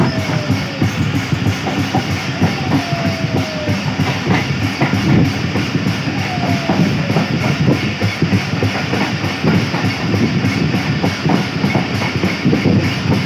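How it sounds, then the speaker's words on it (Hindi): A train heading into Mahmood Kot yard near Multan rolls on the railway track, a loud, steady rumble with a repeated rhythmic clickety-clack of wheels over rail joints, with no voices. "बड़ा ज़बरदस्त ट्रैक साउंड है इस वक्त"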